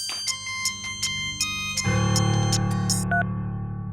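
A mobile phone ringtone plays alone: a bright electronic melody of repeated chiming notes, settling into a fuller sustained pattern halfway through, heard fairly close.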